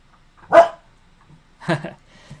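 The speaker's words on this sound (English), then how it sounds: "The doggy decided to join today." A dog barks twice, close and fairly loud, with short sharp barks about a second apart and quiet in between, heard indoors during a Pokémon battle session.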